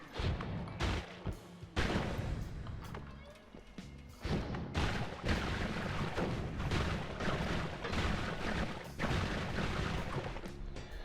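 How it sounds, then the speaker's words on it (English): A pink Parasite-Wisp firework bursts in the game Noita amid a dense run of booming, crackling explosions and impacts, loud and nearly continuous, with a voice talking over the noise. "So we have a nice little pink firework there that's a Parasite-Wisp"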